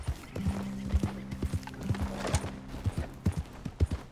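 Horse hooves clip-clop at an even walking rhythm, about two crisp strikes per second, close by, with a faint tonal hum in the background.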